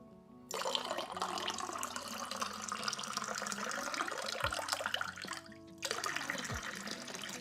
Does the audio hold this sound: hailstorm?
no